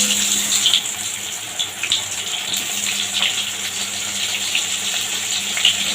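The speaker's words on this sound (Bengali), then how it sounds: "তেলটা গরম হয়ে গেছে, আমি এখানে পটল ছেড়ে দিচ্ছি।" Pointed gourd (potol) dropped into hot oil and frying, a steady broad hiss and sizzle that holds close and even throughout with small crackling pops, no voices over it.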